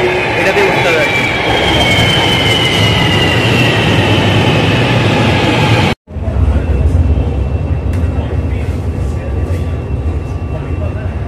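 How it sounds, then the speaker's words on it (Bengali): A train pulls into a station in Malaysia with a loud, continuous rumble and high whining screech of wheels and motors, followed by a brief cut to the steady roar of the carriages close by. "এই যে আমাদের ট্রেন চলে আসছে"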